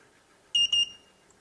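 A paired button under test gives a close, clear electronic beep, two quick high tones in a brief burst, with near silence before and after.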